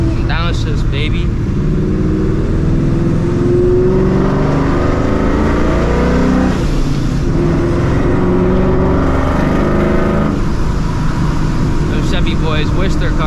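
A straight-piped, supercharged 2004 Mustang GT engine revs loudly and continuously at a car meet, with a rough rising and falling exhaust roar up close and people talking over it.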